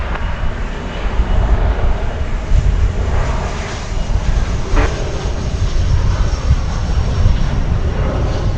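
A jet airplane arriving on runway 18 right at DFW airport, heard as a steady, loud broadband engine roar that holds evenly throughout without talk.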